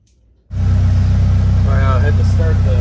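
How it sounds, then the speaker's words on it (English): A Polaris Slingshot's engine cranks and catches abruptly after near silence, then settles into a loud, steady, rumbling idle close by, with faint chirping sounds briefly audible over it. "I had to start the engine."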